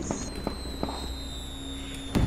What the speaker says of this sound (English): the fireworks are annoying.